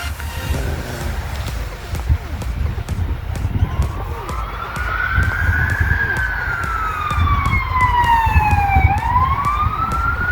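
A police siren wails up and down in the distance on New Year's Eve, rising over a steady roar of traffic, with faint rapid crackling popping throughout.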